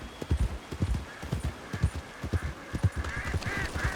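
Horse hooves clip-clopping steadily along a narrow, winding trail in Red Dead Redemption 2, a regular walking rhythm of soft thuds with faint ambient outdoor sounds behind.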